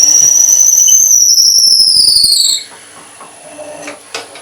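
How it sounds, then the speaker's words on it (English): A loud, high-pitched squeal of a drill bit biting into wood on a woodturning lathe holds for a couple of seconds, then cuts off, leaving quieter machine hum and a few knocks. "and we can start drilling"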